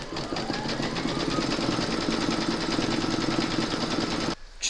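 An embroidery machine stitches a design in the hoop, giving a steady, rapid mechanical hum and chatter that runs evenly for several seconds before cutting out near the end.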